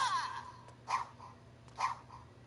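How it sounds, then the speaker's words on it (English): A cartoonish jump sound effect resembling a dog's bark, made by a character in a game built in Dreams, sounds twice at an even pace, short and mid-pitched over a quiet background hum. "When he jumps, it sounds like a dog barking."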